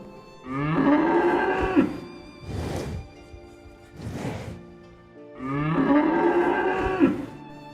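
Cattle or buffalo bellowing in pain, struck on the head with a hammer while tied for slaughter: two long, loud, strained moos with two shorter breathy calls between them, close and alone.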